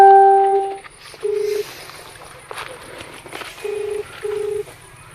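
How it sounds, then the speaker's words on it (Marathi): Several short bursts of telephone keypad tones as a number is dialled on a phone, spaced with pauses, over a faint background with a voice briefly at the start. "थांब लावतो फोन."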